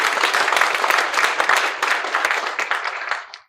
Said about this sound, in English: So please help me applaud them and thank them for being with us here today.